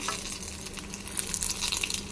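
Pointed gourd (potol) slices fry in hot oil in a pan, a dense crackling sizzle with bright spitting pops throughout, close and steady with no voices.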